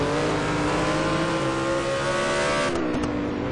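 A Porsche race car at Anderstorp accelerates hard out of a turn onto the straight, its engine note loud and close, climbing steadily before easing slightly near the end.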